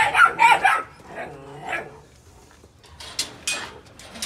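A large 115-pound house dog at a working K9 kennel yard barks and yips in short bursts, a couple of loud barks, a whining tone, then more sharp yips close by.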